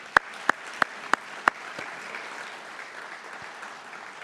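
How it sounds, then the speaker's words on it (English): Audience applause at an ROTC commissioning ceremony: five sharp, evenly spaced claps ring out over a soft, steady crowd wash, then the room settles into faint background noise. "I think we owe them a round of applause as well,"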